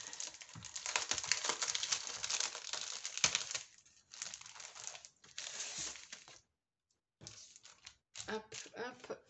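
Smooth, untextured pale pink Craftelier paper being handled, crinkling and rustling in close, dense bursts with a short silent gap near the end.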